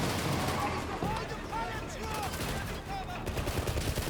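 Rapid bursts of gunfire from the 007 First Light video game, fairly distant and muffled, rattle on beneath game voices and ambient sound.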